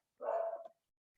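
A single short dog bark, fairly clear and mid-distance, standing alone against silence.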